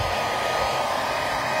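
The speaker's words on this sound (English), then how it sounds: "And you got to be careful with a hairdryer because it blows everything around." A hair dryer blows steadily at close range to dry a painted beach-themed canvas, giving a loud, even broadband whoosh with a low motor rumble throughout.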